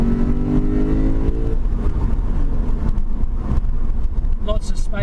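A 2017 Lexus RC F engine drones loudly and steadily from inside the car while accelerating, a constant aggressive roar that shifts in pitch partway through.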